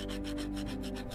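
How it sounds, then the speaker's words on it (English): A spatula scrapes rust from the lid of an old iron, making a steady, close, continuous rubbing and grating sound with a faint rhythmic pulse and no talk. "Then we started cleaning the rust off the lid with a spatula."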